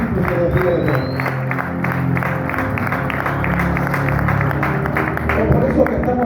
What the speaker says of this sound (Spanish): ¿Cuánto le dan un fuerte aplauso a Dios?